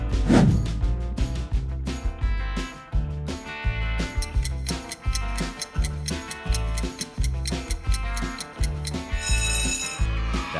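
A retro Sony Ericsson phone ringtone plays loud and close. Its bright, ticking electronic tones repeat in a steady rhythmic pattern with a bass pulse beneath, and it runs without interruption.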